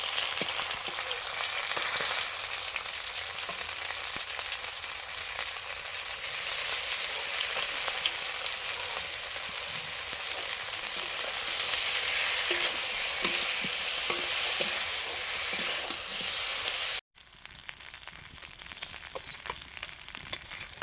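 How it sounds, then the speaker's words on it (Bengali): Fish frying in a pan with onion paste, a loud steady close sizzle with scattered stirring clinks, abruptly dropping and continuing more softly for the final few seconds. "প্রথমবারে মাছগুলো ভাজা হয়ে গেছে, একটু পেঁয়াজ বাটা দিচ্ছি।"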